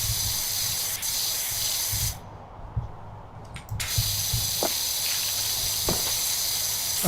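A pressure washer sprays steadily in the Power Wash Simulator video game, a constant loud hiss that drops out briefly midway and then resumes, with no talking.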